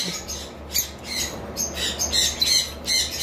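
Double factor violet lovebirds squawk in repeated harsh, shrill bursts at close range, several calls overlapping with short gaps, with no talking.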